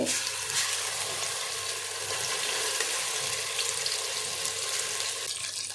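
Ginger garlic paste frying in hot oil in a pan while cooking country chicken curry, a steady hiss that fills the whole stretch with no pause, close and fairly loud, with no one talking over it.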